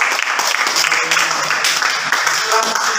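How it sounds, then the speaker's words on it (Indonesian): Dense group applause fills a classroom in a continuous, fairly loud wash of overlapping claps, with some voices mixed in beneath it. "Ya, tepuk tangan kelompok."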